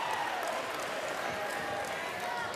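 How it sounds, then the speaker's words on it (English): A college men's basketball crowd at a SAGU versus Our Lady of the Lake game roars after a missed free throw, a dense, steady wash of cheering and crowd noise that holds at an even level throughout. "the crowd loves that"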